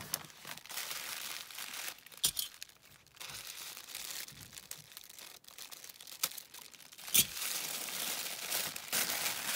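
A well-wrapped, taped parcel is unwrapped: paper and plastic wrapping crinkle and rustle in bursts, with occasional sharp tearing sounds, close up and with no talking.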